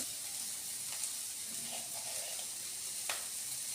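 Bay leaf and crushed ginger sizzling in hot oil for a mixed vegetable sabzi, a soft continuous fry with a few faint clinks of a utensil, no voices.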